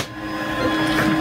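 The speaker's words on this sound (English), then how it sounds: "The printer is now running on battery." A battery-powered 3D printer running at full power, its steady motor and fan whir continuing evenly and close up with no talk over it.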